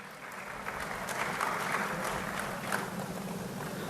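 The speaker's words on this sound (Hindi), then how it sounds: "एक बार जोरदार तालियां।" An audience at a Gwalior clean-city award ceremony gives a hearty round of applause, a dense, continuous wash of clapping that stays loud throughout.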